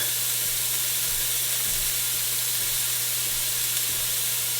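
Ingredients sauteing in a pot for avgolemono (chicken lemon) soup give a steady, close, even sizzle and hiss with no voice.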